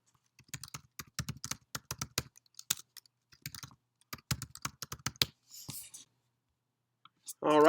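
Someone types on a computer keyboard nearby, with quick bursts of crisp key clicks separated by short pauses, and a brief voice at the very end.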